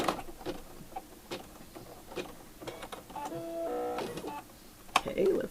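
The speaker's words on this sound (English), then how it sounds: "it's going to do a satin stitch around both the bunny and the tail" A home embroidery machine stitches a satin-stitch outline around an appliqué bunny and its tail on an in-the-hoop zipper bag, giving a close, fast mechanical chatter with brief pauses and a few clicks.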